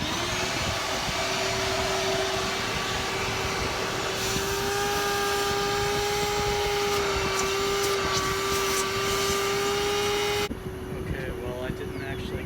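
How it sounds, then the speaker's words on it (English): A vacuum cleaner runs close by with a loud, steady whining drone as it sucks a line through conduit while a home battery backup is being installed. The pitch shifts slightly midway and the tone cuts off near the end. "on the other end of the conduit, we're going to run the vacuum cleaner and suck this line through."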